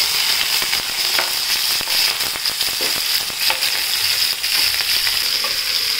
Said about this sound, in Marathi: कढीपत्ता आणि हिरवी मिरची. आता हे छान परतून घेऊया.